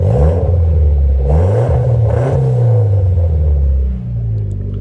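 A 2015 Mitsubishi Lancer Evolution X Final Edition engine with a roughly $400 aftermarket exhaust rumbles loudly and close, with a couple of rising revs over a deep idle drone before settling back down.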